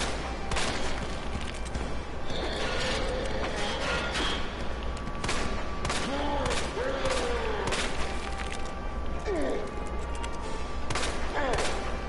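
Repeated gunshots and sharp impacts ring out at an irregular pace in Resident Evil 2, loud and close over a constant low hum, with people talking throughout.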